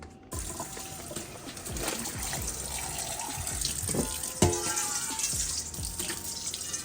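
Tap water runs steadily into a kitchen sink while meat is rinsed in a bowl, the stream filling it from the side with continuous splashy rushing and small clatters, close and alone without talk.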